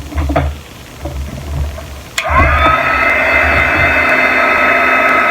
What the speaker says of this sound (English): heat gun is right here.